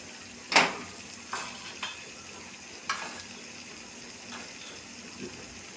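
Fresh prawns frying in a pan for a spicy village-style prawn curry give a quiet, low sizzle broken by a few sharp scraping clinks of stirring, spaced out and alone with no voices.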